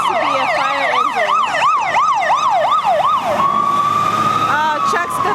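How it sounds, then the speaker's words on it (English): A fire engine siren in a London street, close and loud, yelps in quick rising and falling cycles, then switches to a long steady tone, over street noise. "It appears to be a fire engine, babe."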